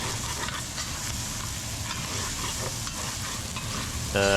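Mushroom fried rice with soy sauce is stir-fried one-handed in a hot pan, with a loud continuous sizzle broken by repeated scraping and stirring strokes close by.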